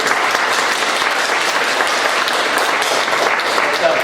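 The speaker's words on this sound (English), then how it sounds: "can we give a round of applause to the councilman also for this presentation?" A civic leadership forum audience gives a round of applause for a councilman, loud even clapping from many hands continuing throughout four seconds, with faint murmuring voices underneath.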